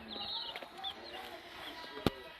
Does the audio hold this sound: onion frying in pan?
no